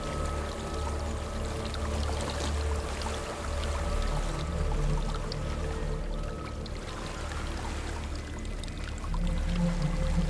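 A waterfall in the video game Hellblade: Senua's Sacrifice gives a steady, continuous rushing roar that holds at an even level throughout, with no voices over it.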